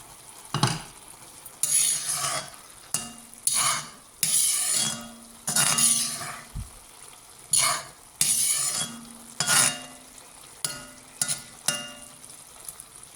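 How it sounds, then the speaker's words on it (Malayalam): Quinoa upma being stirred in a pan, a spoon scraping and clinking against the metal in repeated short strokes over a faint sizzle, close and fairly clear with no voices. "ഇടയ്ക്ക് നമുക്കൊന്ന് ഇളക്കി നോക്കാം."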